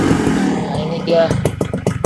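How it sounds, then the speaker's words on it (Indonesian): A motorcycle engine idles and revs, its low rumble steady at first, then breaking into uneven bursts toward the end; fairly loud and close. "mari kita cek sound suara engine-nya. Ini guys suara engine-nya"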